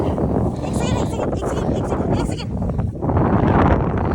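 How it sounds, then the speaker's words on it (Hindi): Wind gusts steadily over snow outdoors in a jungle setting, a loud, continuous blustery rush with people talking through it. "और हवा चल रही है बर्फ़ में, ढकेगा ही ढकेगा।"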